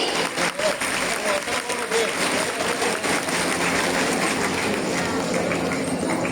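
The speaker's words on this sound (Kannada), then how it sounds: "ಜೋರಾದ ಚಪ್ಪಾಳೆ." Loud, sustained applause from a large crowd at a women's day celebration in Sandur, a dense, steady clatter of clapping filling the whole stretch with murmuring voices mixed in.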